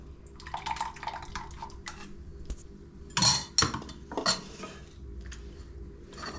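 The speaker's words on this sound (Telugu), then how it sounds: "ముద్దకంతో ఇలా రుబ్బుకోవాలి." Pestle grinding a mashed eggplant and potato mixture in a kitchen: scraping and knocking strokes at an irregular pace, with a few sharper clatters partway through, moderately close and quiet.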